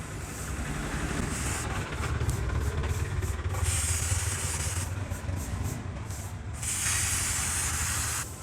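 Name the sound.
lubricant spray on motorcycle chain, Bajaj NS200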